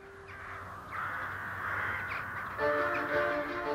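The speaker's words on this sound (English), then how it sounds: "Our woodlands are also home to rooks and crows that come here every evening to roost." Rooks and crows caw repeatedly at their evening roost in Dales woodland, a loud, overlapping chorus of harsh calls with a steady noisy backdrop.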